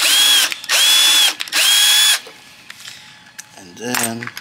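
A power drill drives a screw into a custom fiberglass speaker pod panel for an OBS truck, with three loud, close whirring bursts separated by short pauses, then someone speaks briefly.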